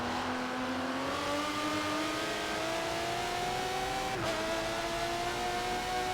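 An Aston Martin DBR9 race car in a racing video game on the Nürburgring GP circuit, its engine holding a steady high drone that climbs in pitch, dips briefly at a gear change, then continues.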